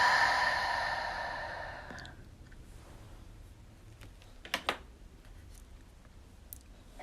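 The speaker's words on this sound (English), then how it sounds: "Find a slow breath in. Audible exhale out." A long audible exhale during a yoga flow opens the clip, breathy and close, fading out over about two seconds and leaving a quiet room with a couple of faint clicks.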